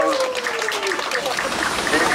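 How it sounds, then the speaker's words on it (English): Passengers aboard a steam excursion train in the Ozarks applaud, a dense continuous patter of clapping mixed with train rumble and a drawn-out whistle-like tone, with voices in the background. "give her a big old round of applause"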